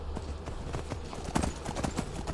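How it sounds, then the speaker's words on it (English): Horse hooves clip-clop steadily at close range while riding in the video game Skyrim, a brisk rhythmic run of soft thuds over low ambient game sound. "yeah, there we go, there's a horse"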